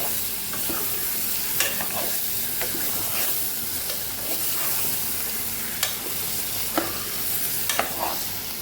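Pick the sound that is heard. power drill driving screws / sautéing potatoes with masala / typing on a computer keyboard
sautéing potatoes with masala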